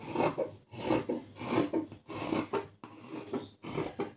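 Scissors cut through blouse fabric in repeated rasping strokes, about six bursts each separated by a short pause, close and fairly loud with no talk.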